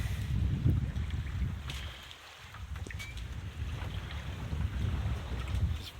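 A Maxi 95 sailboat under windvane steering moves steadily through water off Plymouth, with wind buffeting the microphone and low rushing water noise throughout; no voices.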